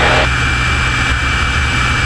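A steady, loud engine roar fills the cabin of an aerobatic airplane in flight, a constant droning hum with no talk over it.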